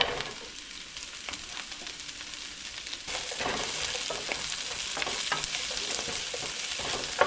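Carrots and garlic stir-fry in a hot pan, a continuous sizzle that grows louder and denser after a fresh addition midway, with scraping stirs running through it and no talking.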